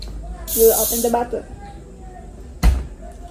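A carbonated drink bottle is opened, releasing a sharp burst of hissing gas, followed by a second short pop-like hiss a couple of seconds later, fairly loud and close with faint voice in between.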